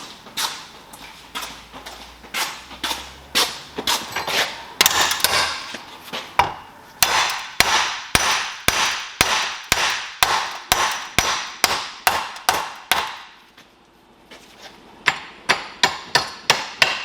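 Steady hammer strikes ring out one after another in a fast, regular rhythm, loud and close, during a 2005 Toyota Prius front wheel bearing replacement, with a short pause before the blows resume.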